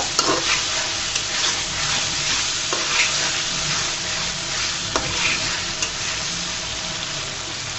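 Potatoes frying and being stirred in hot oil for a Bengali prawn and okra dish, a steady dense sizzle close up, with occasional scrapes and clicks of a spatula against the pan throughout.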